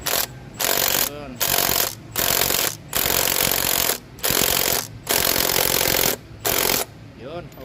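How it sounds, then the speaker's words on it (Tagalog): An impact wrench works on the fuel pressure pump of a Ford Ranger 3.2 engine. It fires about eight loud, close, hammering bursts, each under a second long, separated by short pauses. "Gagamit tayo yung impact wrench."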